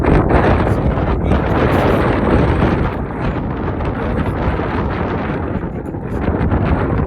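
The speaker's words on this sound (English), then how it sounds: "I'm out at an RC field on a pretty windy day" Strong gusty wind buffets the microphone at an RC flying field, a loud, continuous roaring rumble that swells and eases slightly without pause.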